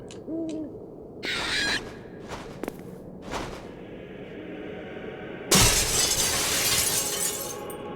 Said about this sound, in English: There's a white owl. We should disturb it.